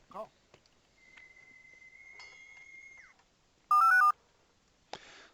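Call tones from the Elevate UC calling app as a call is placed: a faint steady tone, then a short loud burst of electronic dial beeps and a final brief chirp, with no talking.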